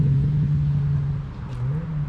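A car engine idles or runs steadily on the road beside a village house in Germany, a continuous low rumble that dips briefly and recovers, fairly close and alone with no talk.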